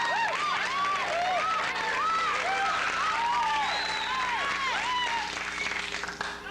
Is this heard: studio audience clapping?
yes